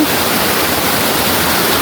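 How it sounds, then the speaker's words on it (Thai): Steady, loud roar of falling water at the cliff edge of Kim Ngai waterfall in Thailand, a continuous broadband rush with no voices. "ตอนนี้ผมก็อยู่ที่ หน้าผา น้ำตกกินไงนะครับ"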